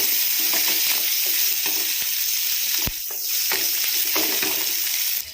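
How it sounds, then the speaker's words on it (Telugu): Chopped onion and two green chillies frying in a pan, a steady loud sizzle with faint stirring taps throughout and a brief dip near the end. "వీటిని పచ్చివాసన పోయేంత వరకు మంచిగా ఫ్రై చేసుకోవాలి"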